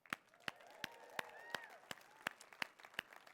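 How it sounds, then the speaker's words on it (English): Audience claps in an even, steady rhythm, sharp single claps spaced about a third of a second apart at moderate distance, with faint music underneath, during a fitness class session. "let's give a big round of applause for empowering people"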